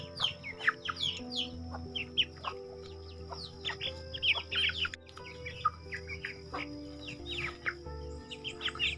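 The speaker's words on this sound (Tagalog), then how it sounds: "Ito guys, ang mga silky chicken." Silkie chickens kept free-range on a farm cluck and chirp in repeated short calls. A steady low hum runs underneath, and the flock sounds moderately close.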